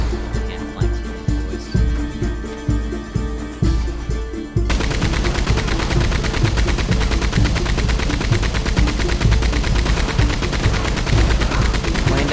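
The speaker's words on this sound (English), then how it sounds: "I shot them a lot. Apparently the turret doesn't do a ton of damage." Turret gunfire in Red Dead Redemption 2 Online, loud rhythmic bursts at first, then a sustained dense stream of rapid shots over music-like game sound.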